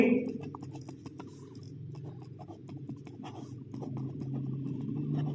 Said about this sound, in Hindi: तो हम लिखेंगे